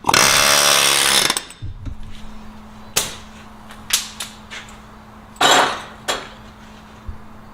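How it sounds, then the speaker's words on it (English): A loud sustained burst of rapid pneumatic air hammering on a seized front axle of a third-generation Toyota 4Runner opens, followed by several sharp metallic knocks and clanks spaced irregularly over a low background hum. "the axle is a little bit seized. So I'll use an air hammer for that."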